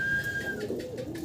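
Original Madrazi pigeon coos softly at close range, a low murmuring call lasting about a second amid faint background noise, with no one speaking.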